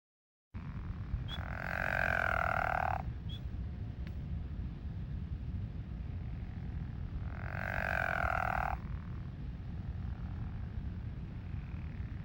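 Pickerel frog giving two drawn-out snoring calls from a wetland, each a rough, buzzy croak lasting about two seconds, separated by a pause over steady low background noise.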